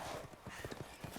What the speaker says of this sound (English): this is the only time that you'll see these guys on horses